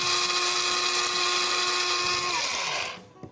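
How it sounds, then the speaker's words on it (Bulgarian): A kitchen grinder whirs steadily at a high, loud whine as it mills sunflower seeds, running alone for nearly three seconds before cutting off abruptly. "Сега трябва да смелиме малко слънчоглед."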